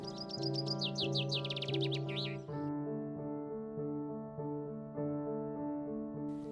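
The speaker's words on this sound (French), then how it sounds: "Et un pinson des arbres se mouille les pattes." A common chaffinch at a garden bird bath gives a quick burst of bright chirps and twitters at the start, then falls quiet under a steady bed of background music.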